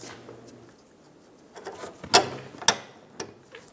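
A ratchet tightens bolts on the fuel tank strap of a 2007-2011 Toyota Camry 2.4L, giving a few sharp, close metallic clicks and bursts over a quiet background, most prominent in the second half.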